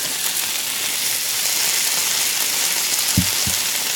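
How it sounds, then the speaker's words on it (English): Fish fries in hot oil with a steady, dense sizzle throughout, broken near the end by a couple of soft knocks. "the sound of the sizzling oil is so satisfying"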